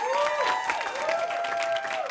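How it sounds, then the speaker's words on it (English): Audience applause at a game show with a steady wash of clapping throughout the short stretch, mixed with sustained tonal sounds rising and falling above it. "Greg has another round of applause for everyone in the game."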